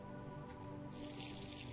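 Plants being watered in the video game Wrongworld: a short, faint trickle of water with light dripping, heard alone.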